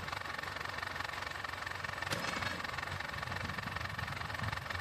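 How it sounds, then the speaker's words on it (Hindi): A hand-started farm tractor's engine idles in a field with a steady, even rumble and faint rhythmic vibration, moderately distant and alone, with one brief clank near the middle. "ट्रैक्टर को स्टार्ट करता हूँ"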